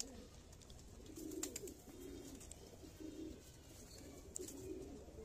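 A young pigeon coos softly in a series of low, rounded calls that repeat at intervals over quiet background hiss, with a few faint chirps from other birds.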